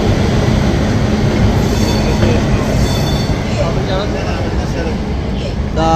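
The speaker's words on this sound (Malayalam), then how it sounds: "railway station" A train rolls through Amritsar railway station, an old station in Punjab, with a loud close rumble of wheels and carriages, occasional metallic squeals, and voices talking over the steady rail noise.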